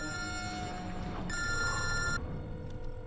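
A telephone bell rings in a dubbed Hindi action film, its steady electronic trill holding clear and fairly loud for about three seconds with no voices over it.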